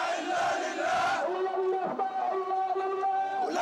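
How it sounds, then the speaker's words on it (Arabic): A street crowd gathered outside the Bilal bin Rabah mosque chants slogans denouncing Hezbollah and its secretary-general, voices loud and massed with sustained tonal shouting throughout. "هتافات منددة بحزب الله وأمينه العام"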